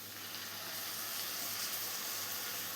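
Soy sauce goes into a pan of frying soya roast, and a steady, close hiss of sizzling fills the whole stretch with no breaks.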